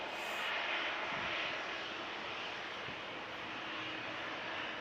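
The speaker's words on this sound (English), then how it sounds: "So Ryanair approaching the runway, heading for Palma de Mallorca." A Ryanair airliner approaches the runway at Manchester Airport, its engines a steady broad roar that holds at an even level throughout, fairly loud and with no voices.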